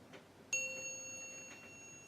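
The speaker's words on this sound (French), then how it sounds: "c'est la cloche du moment présent" A single bell struck for a mindfulness pause rings out once with a clear, sustained tonal ring that slowly fades, alone in a quiet room.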